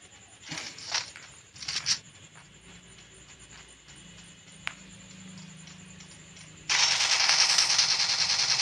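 Automatic gunfire from the Free Fire battle game rattles out in short bursts early on, followed by scattered single shots, then a harsh, loud, sustained burst of noise near the end, with no voices.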